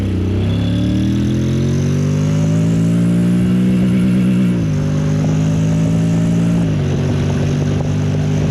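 A Honda X-ADV 750 motorcycle in Sport mode with manual shifting accelerates close by, its engine note rising steadily and dropping briefly at two gear changes before climbing again.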